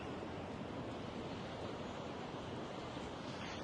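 Waves wash onto a beach at the water's edge in Benidorm, Spain, a steady broadband rush of surf with some wind noise and no talking.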